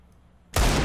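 A bomb detonates in a video game, cutting a near-silent moment with a sudden loud, full-bodied blast that roars steadily to the end.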